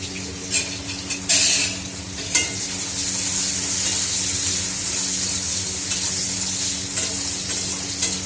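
Onions fry in a pan and are stirred, producing a loud, steady hiss with several sharp scraping and clattering strokes of a spoon against the metal near the start, no voices.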